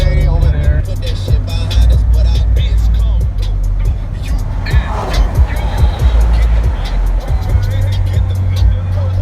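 A V6 truck drives along a road, its low engine drone and tyre rumble steady inside the cab, with someone talking over it.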